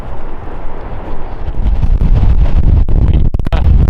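Strong wind buffets the microphone on a hilltop near wind turbines, a loud, rough, continuous roar with gusty rumbling and crackling bursts.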